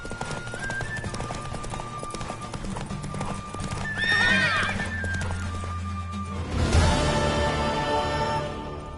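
A horse in the video game Witcher 3 gallops with rapid clip-clop hoofbeats and lets out two loud neighs, over music and talk.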